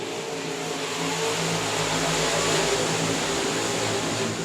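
Several limited modified race cars roar on the South Texas Speedway oval, a steady broad engine drone swelling slightly around the middle of the pack's run, heard from a distance with no talk.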